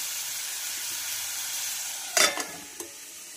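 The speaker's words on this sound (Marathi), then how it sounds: "छान मऊ होईपर्यंत हे जिन्नस परतून घ्यायचे आहे" Tomato and onion sauté in a pan for a hotel-style mixed vegetable gravy: a steady close sizzle of frying throughout, with a brief scrape of stirring and a soft clink near the end.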